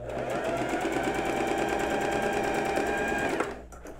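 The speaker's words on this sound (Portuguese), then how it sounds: "Se você não tiver overlock, pode fazer uma costura no zigue-zague" A sewing machine zigzag-stitches a seam on a basic blouse with a fast, steady mechanical whirr of rapid needle strokes. It sounds close and loud for about three and a half seconds, then stops abruptly.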